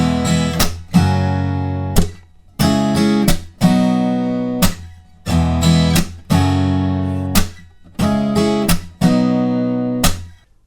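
Acoustic guitar strums the chorus of Hailee Steinfeld and Zedd's "Starving" in a steady rhythm with sharp percussive slaps between chord strokes, loud and close, no voices.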